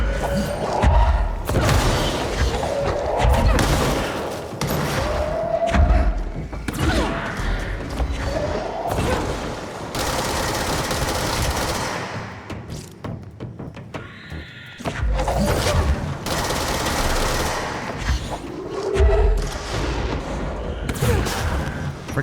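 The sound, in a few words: rocket explosions from the video game Control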